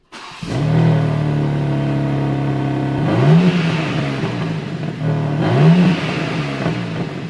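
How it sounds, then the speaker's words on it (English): A stock BMW M3 engine revs through its standard exhaust, a steady close drone with two sharp throttle blips rising and falling, loud and without talk. "I would be so disappointed if I bought a BMW M3 brand new and it sounded like this."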